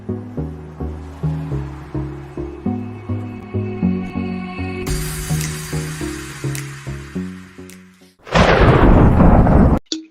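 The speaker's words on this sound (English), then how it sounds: "with a roaring clap of thunder" After a pulsing sequence of low musical tones, a loud roaring thunderclap sound effect crashes in and rumbles for about two seconds before cutting off abruptly.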